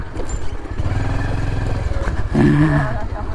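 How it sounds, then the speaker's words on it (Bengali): A motorcycle's wheel spins and slips on a slippery stretch of Bogura Sodor Highway. The engine throbs loudly and close with a steady pulsing rev, then surges harder near the end. "চাকা খালি ঘুরিচ্ছে ভাই দুই দিকে পেস খাচ্ছে"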